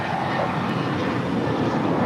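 JetBlue Airbus A320, about fourteen years old, passing at LAX with a loud, steady broadband engine roar that fills the short moment without a break.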